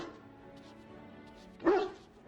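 A dog in the Dragon Age: Origins video game lets out one short, fairly loud bark near the end, set over a quiet, steady background of game music.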